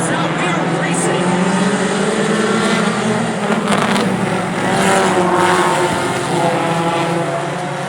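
Race cars at Kalamazoo Speedway roaring as the field takes the green flag on a veterans mid-season championship night, a dense, loud, continuous engine drone that swells and wavers as the pack passes, with a commentator talking over it.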